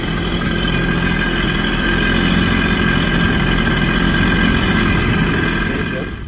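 A Kawasaki Ultra 310R jet ski engine runs during a freshwater flush with a garden hose, a loud, steady idle drone that holds level before easing off at the very end.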